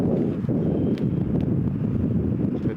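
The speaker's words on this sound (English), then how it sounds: "that's a big headwind" Strong headwind roars steadily across a disc golf hole, a loud continuous buffeting rush of air against the microphone with brief gust flutters throughout.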